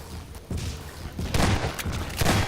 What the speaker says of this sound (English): you're constantly being reminded that this cannon is incredibly dangerous and will kill you at a given time